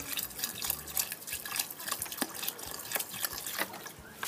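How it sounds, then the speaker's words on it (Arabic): Water poured onto garden pea plants and thorny plants in an Algerian household splashes and trickles in irregular bursts, close and moderately loud, with no talking. "نزيد نسقي البيزا"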